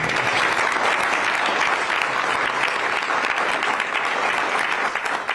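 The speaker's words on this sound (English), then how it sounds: "Yeah, round of applause." Loud, sustained applause from a crowd at a press event with the President, steady and dense clapping filling the whole stretch without pause.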